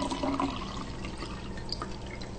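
Water pours steadily into a glass, a continuous splashing, gurgling stream heard close and fairly loud with no talk over it.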